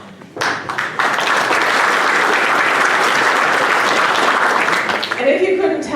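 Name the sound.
audience applause for Pastor Ben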